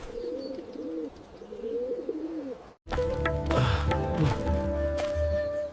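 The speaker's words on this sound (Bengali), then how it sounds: "কুদ্দুস বুঝতে পারল কবুতরটা ডিম দেওয়ার জন্য খাবার জমাচ্ছে।" A pigeon coos in a village setting, giving repeated soft low rolling calls at close range. After a brief break, a louder, busier stretch of other sounds follows.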